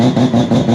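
A PPRE four-rotor rotary engine revs hard and steady, a loud, buzzy, continuous drone lasting under a second with no pauses.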